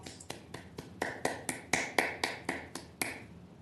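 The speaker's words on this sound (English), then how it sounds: "If you all can join me in a round of applause for Diane" A few people clap in a steady run of sharp, separate claps for an employee's 15 years of service at a city council meeting. The claps grow slightly louder midway, then thin out toward the end.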